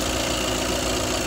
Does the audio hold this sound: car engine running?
yes